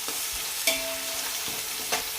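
Onions fry toward golden brown in a pan for chicken fry biryani, with a continuous close sizzle and the scrape and knock of stirring utensils breaking through briefly.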